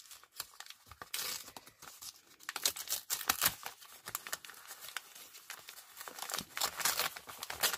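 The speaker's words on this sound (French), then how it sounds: "on va ouvrir la deuxième enveloppe" A paper envelope is opened close up, with a busy run of crinkling, rustling and tearing bursts that rise and fall over several seconds, quiet but distinct.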